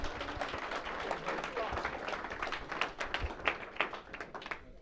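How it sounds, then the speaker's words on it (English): Audience at an AFL-CIO convention panel in St. Louis giving a round of applause, a dense patter of clapping from a modest crowd lasting several seconds, with voices murmuring underneath. "Let's give a round of applause for everybody."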